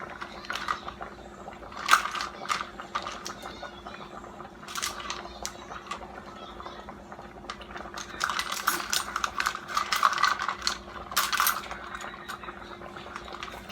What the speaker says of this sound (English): let me get my measuring spoon so I can try to measure for y'all.